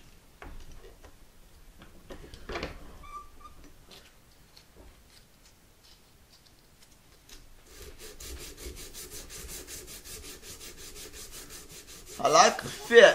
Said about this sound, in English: Take my sanding stick at this time because it's flat. Sand the whole thing.